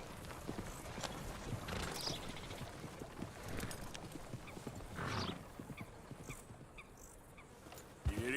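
A horse gallops in the video game Red Dead Redemption 2, its hooves clopping in quick, rhythmic beats under faint ambient noise, with a sharper thump near the end.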